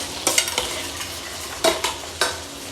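Fresh chopped basil being stirred through a mixture in a frying pan, a few scraping strokes of a utensil against the pan over a quiet sizzle, close and fairly clear, with no talking.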